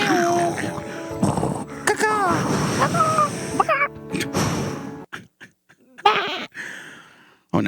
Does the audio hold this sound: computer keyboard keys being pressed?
no